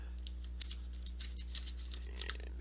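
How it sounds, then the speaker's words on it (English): Faint, sparse snips and crinkles as plastic wrapping is cut open on a long white Loot Crate poster box, a few soft clicks in a quiet room. "I'll go ahead and cut this open"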